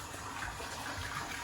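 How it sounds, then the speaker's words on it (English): Water flows in a koi fish pond that loops around a homestay property in Selangor, Malaysia: a steady, broad trickling wash that stays even and moderately close, with no voices. "There's like a koi fish pond just loops around."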